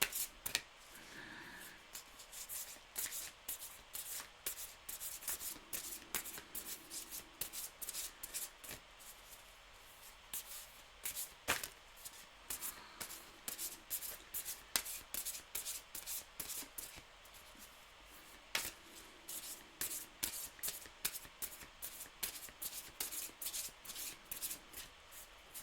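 Tarot cards are handled and shuffled close up in a quiet room, soft repeated riffling snaps and slides coming in irregular bursts with short pauses between them.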